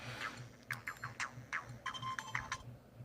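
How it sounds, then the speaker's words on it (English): A phone running a custom ROM plays an annoying ringtone, a quick run of bright melodic notes repeating in short bursts over a low steady hum, fairly faint and alone. "It plays that really annoying ringtone"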